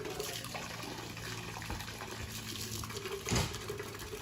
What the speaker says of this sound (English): I'm expecting a little more black water to come out of there.